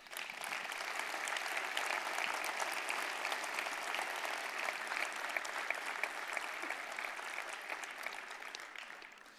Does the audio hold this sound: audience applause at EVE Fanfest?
yes